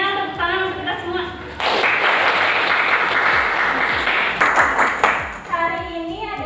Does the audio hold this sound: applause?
yes